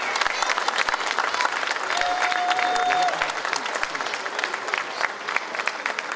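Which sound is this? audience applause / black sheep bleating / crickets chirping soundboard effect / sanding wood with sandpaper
audience applause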